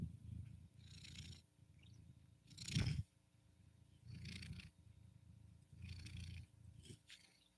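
Soft, close purring in rhythmic rumbling waves, pulsing with each breath, with a brief louder rustle partway through.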